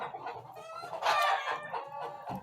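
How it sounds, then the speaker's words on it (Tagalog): A chicken clucks and crows in a short, close burst, the call swelling loudest midway and then trailing into softer clucks, with no voices. "Saba ang manok."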